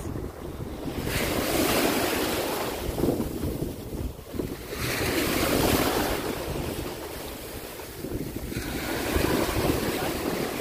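Big ocean waves surge and crash in rolling swells at a Montego Bay beach, loud and close, with gusting wind buffeting the microphone throughout.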